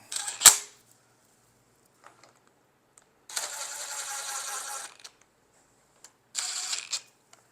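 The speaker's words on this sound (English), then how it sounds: "these little impact drivers, believe it or not, they can drive stuff down to almost 200 foot-pounds" A small impact driver fastening aluminum cylinder head bolts, heard as two bursts of rapid hammering, one about a second and a half long and a shorter one after it, separated by quiet with a few light clicks and a sharp knock at the start.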